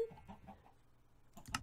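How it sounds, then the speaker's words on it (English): A diamond chicken in Minecraft SkyFactory 3 gives a few short, faint clucks, followed by a slightly louder burst near the end. "Alright, so here's a diamond chicken."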